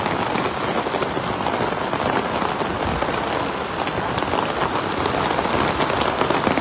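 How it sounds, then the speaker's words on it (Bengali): Heavy rain pours down steadily and loudly in Dubai, a dense, unbroken hiss of drops hitting surfaces close by, with no voices. "দুবাইতে এরকম বৃষ্টি দেখছিস এর আগে"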